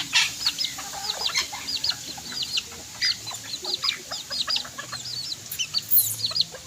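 Native bantam chickens cluck and chatter close by, a busy run of short, repeated clucks and soft calls overlapping throughout the yard.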